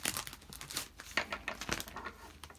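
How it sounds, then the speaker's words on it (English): A plastic sheet, a bit thicker than cling film, crinkles close up in quick, soft, irregular rustles and crackles for a couple of seconds, with no talking. "I recommend that you use a plastic bag"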